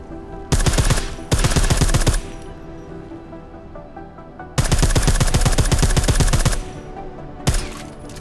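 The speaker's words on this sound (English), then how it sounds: "I like how silencers reduce sound, but the trade-off is less stopping power" Silenced gunfire in the Deus Ex Mankind Divided video game, rapid automatic bursts of sharp muffled shots in several loud volleys separated by brief pauses, with no talk.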